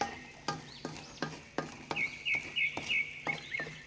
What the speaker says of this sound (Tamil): ஒரு 2 முறை நல்லா கிளறி விட்டுக்குவோம்.